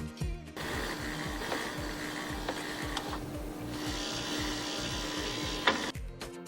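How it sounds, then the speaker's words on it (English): Ice cubes drop and rattle into a refrigerator's ice storage box, a steady clattering, rumbling mechanical noise with a few sharper knocks, close and continuous with no talking. "The rattling sound you're hearing could be the ice dropping into the ice storage box."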